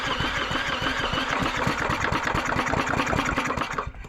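A flooded small engine cranks steadily over without catching, a fast even chugging rhythm that stays loud and close for the whole stretch before slowing at the end.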